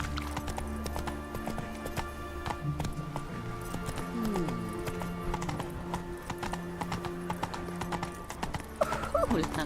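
A horse gallops in The Witcher 3 video game with steady rhythmic clip-clop hoofbeats throughout, joined by a whinny and game music and ambience, while characters speak briefly over it.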